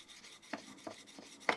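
Workshop scissors are drawn across a 400 grit sharpening stone in a few short, soft rasping strokes, close and quiet, with no talking.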